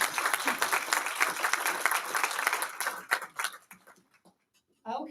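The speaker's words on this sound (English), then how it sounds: "we want to thank them and give them a round of applause for their efforts" Audience applause at a luncheon, a dense burst of clapping that thins out and fades to silence after about four seconds, followed by a voice starting to speak.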